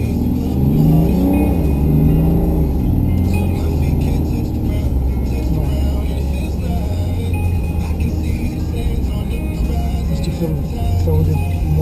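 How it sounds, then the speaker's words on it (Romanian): Engine of a 2015 BMW X6 30d xDrive running inside the cabin, a steady low diesel rumble with some swells in revs, loud and continuous throughout with no voices. "Se aude motorul."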